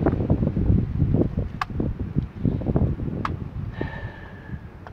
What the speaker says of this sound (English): We get gusts of wind here.